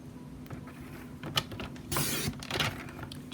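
A paper trimmer slices through cardstock with a short mechanical scraping run, preceded and followed by small clicks and creaks, close and fairly quiet.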